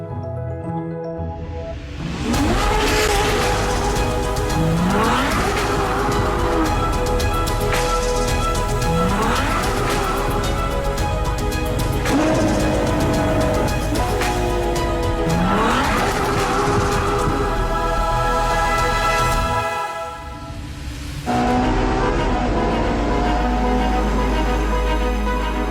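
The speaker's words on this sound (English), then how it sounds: "The Ferrari 812 Superfast." Ferrari 812 Superfast V12 engine revving hard through repeated climbing gear pulls with sharp shifts, loud and close, ending with a steady high-pitched drone.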